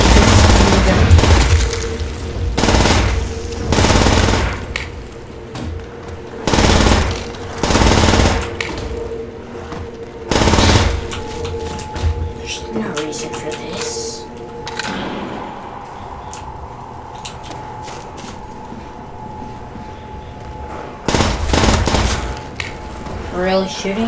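Gunfire in a zombies video game: loud bursts of rapid shooting come in repeated clusters across the clip, with quieter gaps between volleys and a voice talking over parts of it.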